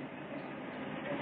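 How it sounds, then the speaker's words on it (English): A train rumbles steadily at a moderate distance, a continuous rolling rail noise without voices, from a 1956 film. "Well, there's our train."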